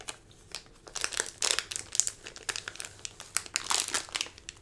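Plastic card sleeves for Pokémon cards handled up close, making a run of crisp crinkling and rustling sounds in uneven bursts against a quiet background.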